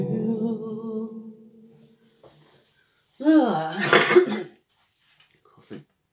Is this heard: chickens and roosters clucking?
no